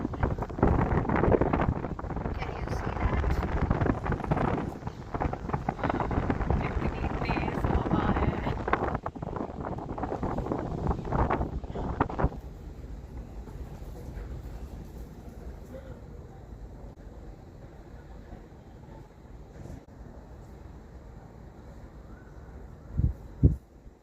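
Strong outdoor wind buffets the microphone in loud, rough gusts for about twelve seconds, then eases to a softer, steadier rumble, with a couple of sharp bumps near the end.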